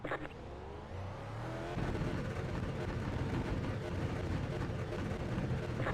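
A race car engine drones steadily and rises in pitch through acceleration in an iRacing sim race at Suzuka Circuit, loud and continuous from start to finish.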